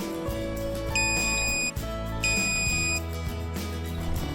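A multimeter in continuity mode beeps as its probes are shorted together on an amplifier test bench, giving two sustained high electronic tones, each just under a second, over loud, dense music.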